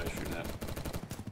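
Rapid automatic gunfire in the Battlebit Remastered shooter, a dense rattling burst of shots that keeps going through the whole moment at moderate loudness, with no voices over it.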